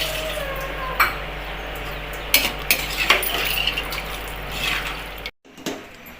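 Tamarind water is poured into a home-style mutton curry in a pot, with a splash and dripping, utensil clinks and stirring scrapes, then a brief cut to quiet near the end.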